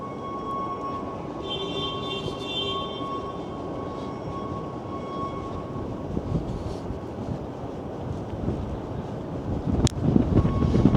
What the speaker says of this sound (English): And very windy here with all the skyscrapers. It's like a wind tunnel in full effect.